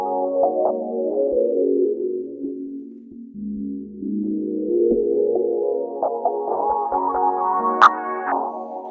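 PluggnB beat in which a low-pass filter swept by an LFO opens and closes on the melody, so it moves from muffled to bright in slow waves, with sharp percussive hits over a steady low layer.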